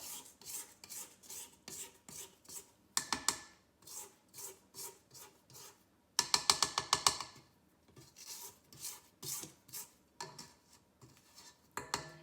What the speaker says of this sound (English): I'm just going to quickly scrape down the sides of my bowl